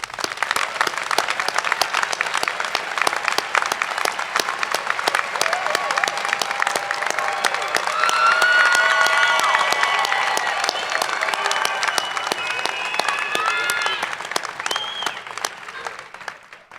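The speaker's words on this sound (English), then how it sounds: "Let's applaud the graduates again as a group now" Sustained applause from a large audience at a university winter commencement ceremony for graduates, a steady dense clapping that swells toward the middle and holds for the whole stretch.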